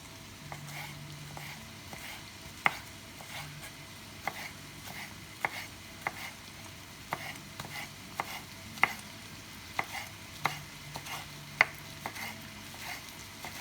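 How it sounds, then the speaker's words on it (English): Knife chopping spring onions on a cutting board, a steady series of crisp taps about every second, close by, over a soft background hiss. "I've chopped 2 spring onions. I'll do another one for you now."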